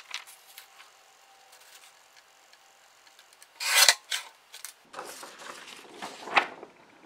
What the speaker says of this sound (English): The guillotine style cutter made quick work of the first cut.